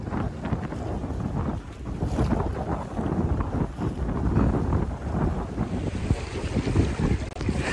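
Steady wind roar buffets the microphone aboard a Daysailer sailing dinghy cruising in New Hampshire, mixed with water rushing along the hull as the breeze and boat speed build, continuous and close without pause.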